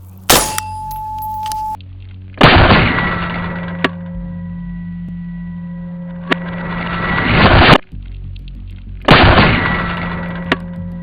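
Three loud, sharp impacts of 14.5-grain 55-grain fragment simulator rounds striking a titanium Russian Altyn helmet in a spall and frag test, each a sudden bang followed by a long ringing metallic decay with steady humming tones between shots.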